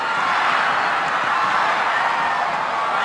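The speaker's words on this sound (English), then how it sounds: "Listen to the crowd." A badminton arena crowd roars after a long rally in a men's singles final, a dense, steady wall of cheering filling the space for the whole stretch.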